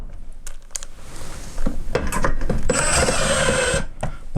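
A power driver drives screws into wood, with a whirring burst that builds and holds for a couple of seconds. Scattered clicks and knocks of handling come before it, and no one speaks.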